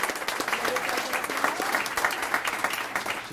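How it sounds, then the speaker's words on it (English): Audience at a Chamber of Commerce business appreciation night applauds steadily, a dense, even patter of many hands clapping throughout at moderate loudness. "So a round of applause."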